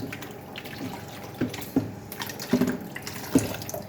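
Water splashes and trickles in short uneven pours into an ice maker, with a few distinct plops and drips against a quiet background.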